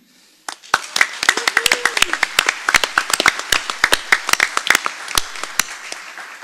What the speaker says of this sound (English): Please join me in a round of applause for our students from Henderson Elementary for their performance before the meeting.